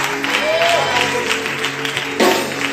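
A church congregation applauding and acclaiming Jesus, a dense wash of clapping and voices filling the room with a brief swell near the end while a preacher speaks over it.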